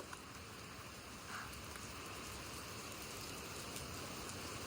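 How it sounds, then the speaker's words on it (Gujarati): Steady rain falls outdoors near the riverside ashram at Rishikesh, a constant broadband hiss with faint patter, continuous and fairly quiet throughout with no voices. "અને આ જો વરસાદ કેવો આવે છે તમે."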